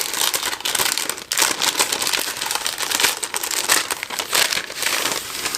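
Paper crinkling as an advent calendar gift is unwrapped, loud close rustling and crumpling that runs continuously with brief tearing bursts.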